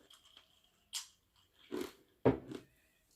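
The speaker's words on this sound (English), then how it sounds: "I apologize for chewing on the ice." Someone crunching and chewing on ice, a few sharp close bites spread apart with short quiet gaps between them.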